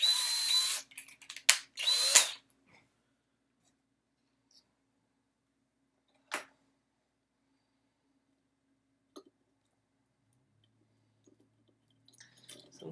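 A power drill whirs in a few short bursts at the start, then goes quiet except for one brief burst and faint scattered clicks.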